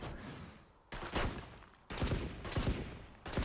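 Gunfire in the game Valorant, heard as several loud bursts of dense, rattling shots separated by brief quieter gaps, with no talk over it.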